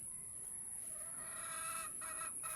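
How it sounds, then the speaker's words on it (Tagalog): Farm chickens cluck softly in a quiet, distant chorus of several birds, faint and continuous with a high electrical whine in the background. "Daming manok, oh."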